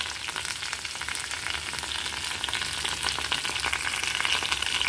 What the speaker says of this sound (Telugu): కరివేపాకు వేస్తామండి, ఎందుకంటే చిట్టుపట్లు ఆడుతూ ఉంటుంది కదా, మీద పడుతుంది